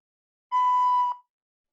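A single steady recorder note sounds clear and alone for about two-thirds of a second, pure and whistle-like, ending with a small breathy blip.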